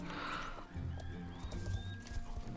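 Hooves drum rapidly as a horse gallops in the online game Star Stable Online, a steady rhythmic pounding that runs through the whole moment alongside brief whinny-like tones.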